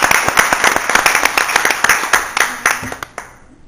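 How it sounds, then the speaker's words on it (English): Applause at a city council meeting, a small group clapping loudly with quick scattered hand claps that thin out and stop near the end. "So I think he deserves a big round of applause for stuff he's done for the city."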